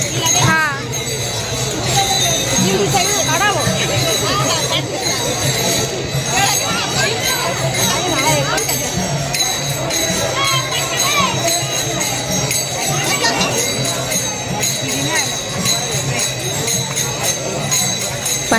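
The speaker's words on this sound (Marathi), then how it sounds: "पालखी आल्यानंतर आहे ना गर्दी पण खूप जास्त वाढली होती" A large crowd of pilgrims around a palkhi procession fills the air with dense, continuous chatter and children's voices, loud and close throughout with scattered clinks.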